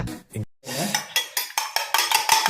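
Eggs beaten in a bowl for masala bun batter, a quick series of loud scraping, clattering strokes with short pauses, close by and alone.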